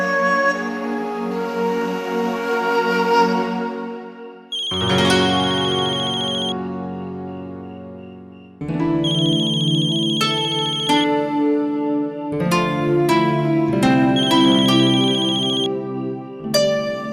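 A mobile phone ringtone plays a bright, loud electronic melody in repeating phrases, with short pauses between bursts of notes and no talking over it.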